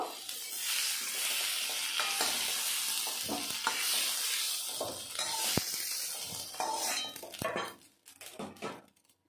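Whole garam masala frying in hot mustard oil for a Bengali egg curry, a loud close crackling sizzle with stirring scrapes and utensil taps that thins out and stops near the end.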